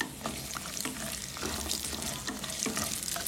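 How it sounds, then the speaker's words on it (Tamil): Cashews, ginger and curry leaves sautéing in a pan for rava upma: a quiet, continuous frying crackle with light stirring scrapes, heard up close and without any voices. "முந்திரி பருப்பு, இஞ்சி, இதில் கருவேப்பிலை, இது வதக்கலாம்."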